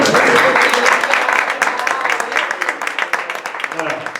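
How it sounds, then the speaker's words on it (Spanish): Applause from the audience at a book presentation, a burst of clapping that is dense at first, thins into scattered claps, and mixes with voices talking over it. "Esto merece un aplauso."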